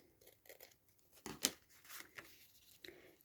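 Scissors cutting paper for a tall, skinny Christmas craft project, a few short snips with one sharper cut standing out, close and fairly quiet, with no talking.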